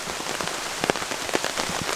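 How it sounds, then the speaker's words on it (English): Rain falls at night in a dense, close patter on a surface, with scattered louder drops popping through the steady hiss over two seconds. "All right, it's raining again"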